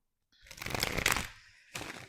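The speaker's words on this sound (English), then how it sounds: "One more good shuffle." A quick burst of tarot cards being riffled and shuffled, crisp and close, followed by a brief second flutter after a short pause.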